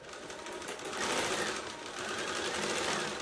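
A sewing machine runs steadily, stitching up the last side of a purse made from a repurposed knit T-shirt. Its close, continuous rapid whir speeds up slightly partway through, with no talking.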